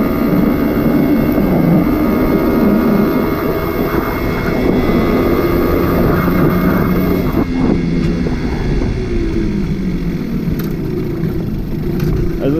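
A Simson moped fitted with a nitrous oxide system pulls hard in third gear from about 35 km/h, its engine droning loud and steady with wind rush, the pitch shifting slightly as it accelerates.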